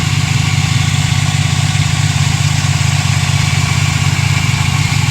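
A car with oil leaking around its valve covers and a faulty exhaust idles loud and close, a steady unbroken rumble with a throbbing low pulse and no talk over it.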